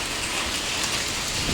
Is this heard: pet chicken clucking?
no